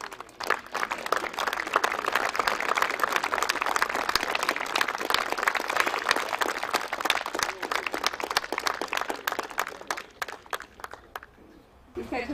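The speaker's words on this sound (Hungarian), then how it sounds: "neki is szeretnék egy nagy tapsot kérni" Audience applause for Zoltán Halmasi at the opening of an artificial-turf football pitch, dense steady clapping from a crowd that thins into scattered claps before fading out.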